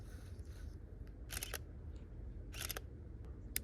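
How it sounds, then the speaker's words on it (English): A beginner DSLR shooting leaves poking through a fence outdoors fires its shutter in short bursts of crisp clicks, two quick clusters and a final single snap, over faint outdoor background hum. "I'm gonna get some photos of these leaves poking out of a fence right here."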